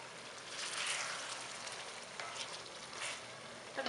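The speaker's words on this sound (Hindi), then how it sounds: "थोड़ी देर इसको डाल के भूनेंगे।" Seven or eight chopped green chillies frying in a pan while chicken shaljam palak is being cooked. They give off a steady, soft sizzle and hiss that carries on throughout, with no one speaking.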